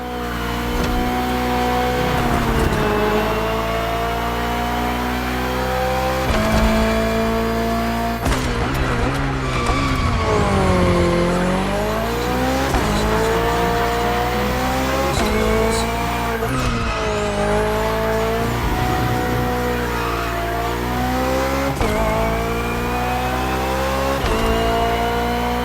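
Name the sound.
BMW Hybrid V8 race car driving in video game The Crew Motorfest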